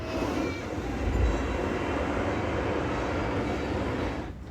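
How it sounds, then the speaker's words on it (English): Loud, steady rumble of a train pulling into a station at Knott's Berry Farm, a continuous heavy roar of wheels and engine that eases off at the very end. "the train has just pulled in"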